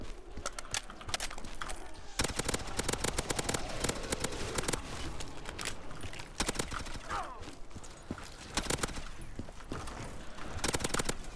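Gunfire in Modern Warfare 2019 zombies mode, rapid sharp shots in clustered bursts mixed with other game noise, moderately loud and steady throughout.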